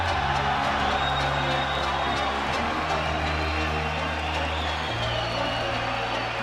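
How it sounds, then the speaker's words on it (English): A large esports arena crowd at a 2014 League of Legends match at IEM São Paulo cheers and roars steadily, with low droning tones running underneath the whole time. "And you can hear the crowd's excitement from that game."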